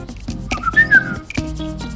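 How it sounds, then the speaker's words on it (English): A person whistles a short, bright rising-and-falling phrase over about two seconds, with faint rustling and background tones around it. "that's my whistle"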